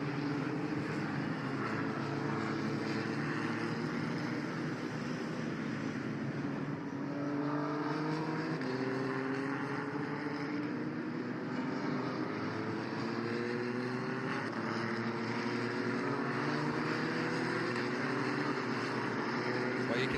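EuroCup-3 single-seater race cars on reconnaissance laps at Portimao sweep past with rising, shifting engine tones over a steady roar of circuit noise, continuous throughout.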